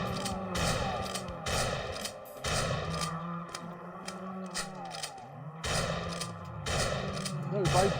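A shotgun fires in the game MDI Shooter, several loud blasts in irregular succession with mechanical handling sounds between them, while a player talks over the action.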